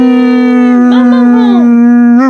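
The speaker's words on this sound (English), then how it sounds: "Buddy, you want a bark?" Dog gives a long, sustained, loud howl close by, the tone wavering in the middle and rising again at the end.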